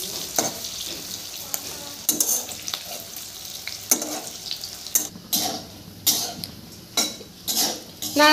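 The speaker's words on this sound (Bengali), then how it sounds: "নাড়াচাড়া করে কিন্তু এপিট ওপিট আমি অনেকক্ষণ ধরে করে ভাজা হয়ে গেল বড়াগুলো" Teasel gourd fritters (bora) fry in hot oil with a steady sizzle, broken by repeated clinks and scrapes of a utensil stirring and turning them. No one speaks.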